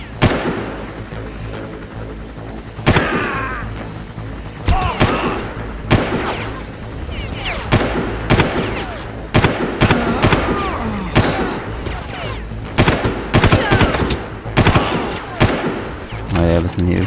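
Gunfire in the first-person shooter Far Cry: repeated sharp shots in uneven bursts and scattered single reports, some loud and close, with game sound and someone talking over much of it.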